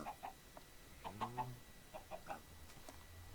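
Chickens in the Minecraft modpack All The Mods 3 give a few quiet, scattered clucks in short bursts, with no talking.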